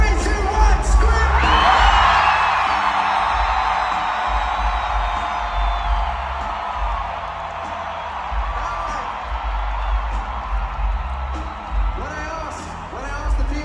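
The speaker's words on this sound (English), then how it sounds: "Can you be louder than Seattle? 3, 2, 1, scream!" Concert crowd at a live show in Vancouver erupts in loud screaming and cheering, peaking early, then sustaining as a roaring wash that slowly settles.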